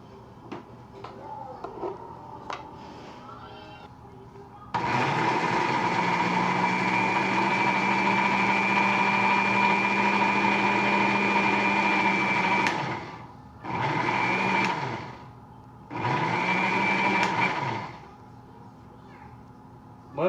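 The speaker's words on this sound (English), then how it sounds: "Blend them up good." A blender purees tomato and jalapeno into salsa, running loud and steady for about eight seconds, then pulsing twice more in short bursts, with quiet kitchen sounds before it starts.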